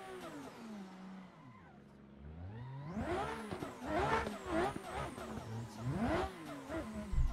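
A drift car from Assetto Corsa revs hard in sixth gear on worn-out tires, its engine note rising and falling in repeated loud surges after a quieter gliding start, with no voices over it.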